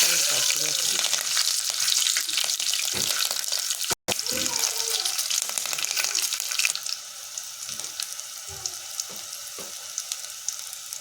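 Spices temper in hot oil in a pan, a continuous bright sizzle with stirring scrapes and brief clatters throughout. The frying fades somewhat after a short pause partway through.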